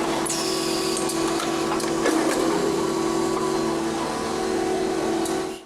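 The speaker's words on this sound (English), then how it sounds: "The Ateshi lead wire extruder is a specialized machine that is designed to produce high-quality lead wire in a consistent and precise manner." An Ateshi automated lead wire extruder runs at a munitions plant, giving a steady mechanical hum with a sustained whine and scattered clicks and knocks, constant and fairly loud from start to finish.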